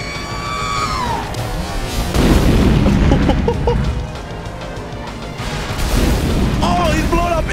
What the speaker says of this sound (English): I've never seen missiles come at me like that.